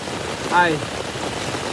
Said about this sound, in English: dove inside just as the rain was coming down